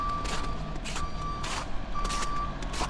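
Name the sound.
snow-clearing truck reversing beeps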